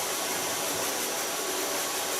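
A hair blow dryer blasts a loud, steady, broadband rush of air close by while hair is dried, without pause and with no talk over it.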